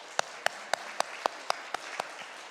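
A church congregation clapping in a slow, regular rhythm, about nine distinct claps spaced evenly, sharp and moderately close in a quiet room.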